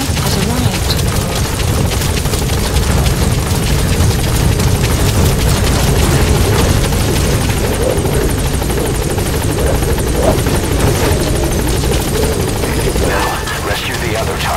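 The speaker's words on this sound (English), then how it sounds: "helicopter has arrived." A helicopter arriving in the video game Metal Gear Solid V: The Phantom Pain, a loud, continuous rotor thrum and engine roar that dominates throughout, with a brief game voice near the end.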